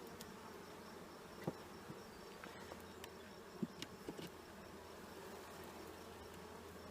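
Honey bees festooning inside a hive give a faint, steady low buzz that hums continuously, with occasional small clicks.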